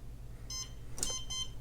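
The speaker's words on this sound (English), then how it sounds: "There's the beep." A smart lock gives two short high electronic beeps while pairing, about a second apart, over a low steady hum with a brief click between them.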